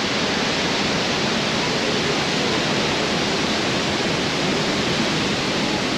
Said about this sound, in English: We're in the Devil's Waterfall.